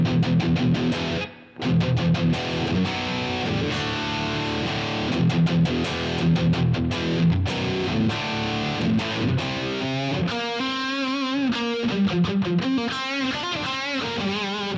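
Electric guitar played through a Line 6 Pod Express with the mids scooped, a distorted, driven tone strummed in rhythmic chords and then picked in faster riffs, loud and alone without talk.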